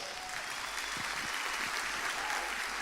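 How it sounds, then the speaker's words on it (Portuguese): A church congregation applauds as a pastor is called up to preach, a steady wash of many hands clapping that stays even and fairly soft throughout with no voices standing out. "uma salva de palmas"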